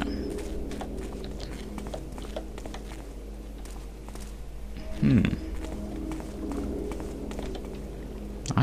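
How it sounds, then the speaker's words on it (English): Footsteps in the stealth video game Thief Gold, a steady run of soft repeated steps through the clip with brief louder scuffs near the middle and end, fairly quiet against ambient game background. "I can hear sort of more footsteps than I should."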